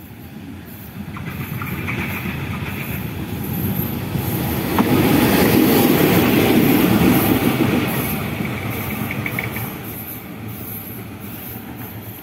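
A heavy CC 206 diesel locomotive rumbles past near Lempuyangan station, its engine drone swelling to a loud peak mid-clip and then fading, with faint rail clatter.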